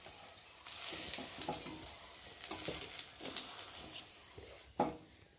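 Fried eggplant pieces are lifted from hot oil, giving a soft sizzle broken by scraping and clinking of a utensil, with a sharp knock near the end; fairly faint and close.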